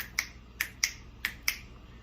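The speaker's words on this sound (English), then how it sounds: "And snapping." Finger snaps as body percussion on a children's art fair stage, five crisp, bright clicks spaced irregularly, close and isolated against a quiet background.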